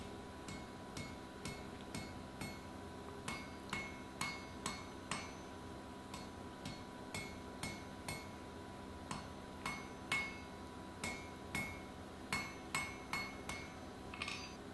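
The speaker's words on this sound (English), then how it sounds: "onto the power hammer I roughly squared it off again and then formed it into a trapezius" A power hammer forging an iron collar for an Anglo-Saxon style stirrup: steady, evenly spaced metallic blows repeating throughout, fairly faint against a low workshop hum.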